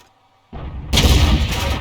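A tank's main gun fires in a tank battle video game with one sudden heavy boom. A rumbling roar follows close and loud.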